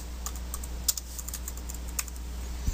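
Close computer keyboard typing as a file name is entered while saving in a Laerdal SimMan3G programming session: a scattered run of light key clicks with a few sharper taps over a low steady hum, no voices.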